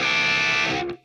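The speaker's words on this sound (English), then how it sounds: "it's a very aggressive, very bitey distortion" A NUX guitar amp pushing an aggressive, biting distortion tone, a dense sustained chord ringing loudly for about a second before cutting off abruptly, with no voices.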